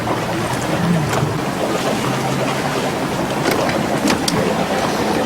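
Steady broadband rush of wind and water around a boat at sea off Greece, with faint splashes and knocks scattered throughout and no voices.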